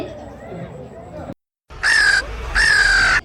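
Harsh, loud cawing in two drawn-out bursts separated by a short pause, following a stretch of quieter background noise at the start.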